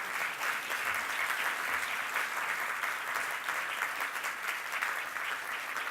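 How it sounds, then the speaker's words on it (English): Audience at the UHC Forum 2017 public event applauding a guest: steady, sustained clapping from a large crowd, even and continuous throughout, with no voices over it. "Please give them a warm, warm round of applause."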